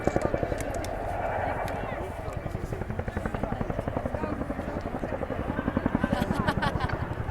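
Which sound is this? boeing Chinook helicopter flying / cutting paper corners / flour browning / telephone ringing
boeing Chinook helicopter flying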